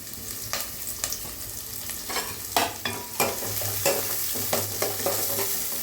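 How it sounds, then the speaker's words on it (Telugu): Onions and green chillies frying in hot oil in a pan for an egg drumstick curry, a steady close sizzle broken by repeated louder scraping stirs. "ఉల్లిపాయలు, పచ్చిమిరపకాయలు 2 వేసేసుకుందామండి ఒకేసారి."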